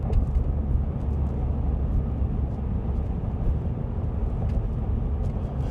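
A 2025 Ford F-150 Tremor with a 5.0L Coyote V8 cruises on the road, heard from inside the cabin as a steady, moderate low rumble of tire and road noise.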